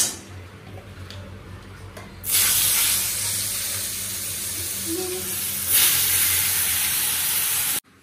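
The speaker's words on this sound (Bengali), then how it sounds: "পনিরটা জাস্ট কড়াই ছেড়েছি" Paneer drops into a hot kadai and a loud, broad sizzling hiss rises abruptly, holding steady for several seconds, swelling once, then cutting off sharply.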